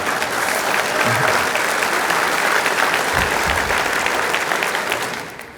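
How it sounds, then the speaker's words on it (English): A town hall audience at an East Idaho water meeting breaks into dense, sustained applause that fills the room from start to finish, with a few cheers mixed in before it tapers off at the end. "Let's applause for the Democrats in the room."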